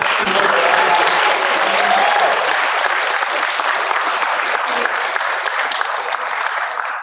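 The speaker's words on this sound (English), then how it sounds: "a big round of applause to all of the teachers who helped coach these speeches" Sustained, dense audience applause fills a school hall at a middle school speech contest, steady and loud throughout with no break or talk over it.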